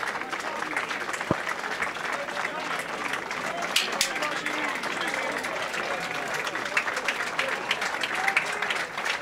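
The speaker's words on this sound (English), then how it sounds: "Big round of applause for the Italian" A crowd applauds an Italian shooter at a men's trap shotgun world championship final outdoors in Lonato, steady clapping with a commentator talking over it and a few sharper bangs.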